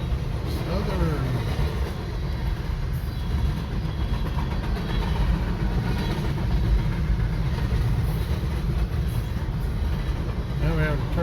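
A Norfolk Southern train rolls along winter railway tracks, a steady broad rumble with faint clattering of wheels and engine drone, moderately near and continuous, with a voice or two murmuring occasionally over it.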